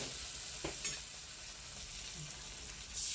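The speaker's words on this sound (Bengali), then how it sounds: "এবার ধনে পাতাটা তেলে দিয়ে একটুখানি নেড়ে নেব" Coriander leaves are stirred in hot oil seasoned with five-spice for a pabda fish curry, giving a quiet, continuous sizzle with a few soft scraping stirs and no talking.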